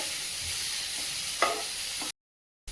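Mixed vegetables with peas stir-frying over a high flame for veg fry idli, giving a steady broadband sizzle with a brief scrape partway, then a sudden cut to silence near the end.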